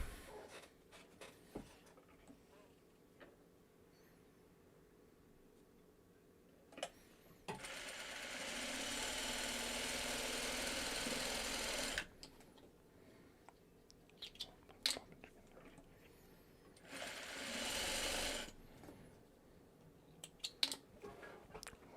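A sewing machine runs in a steady, continuous whir for about four seconds, then stops and briefly runs again; quiet handling sounds fill the pauses.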